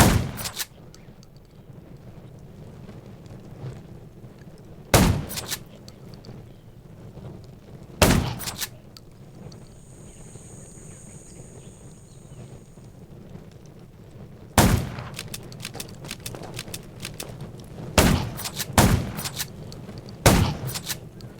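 Sharp, loud bangs ring out singly and in quick pairs every few seconds over a low steady rumble, gunfire in the video game Undawn.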